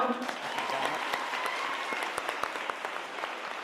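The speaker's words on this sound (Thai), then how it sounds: "อ่ะขอเสียงปรบมือดนะ" Inmates and staff at a special women's rehabilitation prison in Pathum Thani applaud during a comedy show, giving steady, fairly distant clapping with a few sharper claps standing out.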